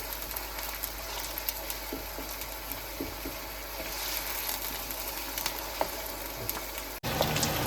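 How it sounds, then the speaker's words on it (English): Onions fry in a pan over a medium flame, giving a steady soft crackle with scattered small pops throughout, fairly quiet and close, with a brief break near the end. "Make sure that you fry it on a medium flame, not on very high flame."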